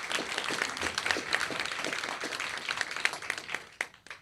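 Applause at a Limerick Person of the Year awards ceremony, a lively burst of many hands clapping that thins out and stops near the end.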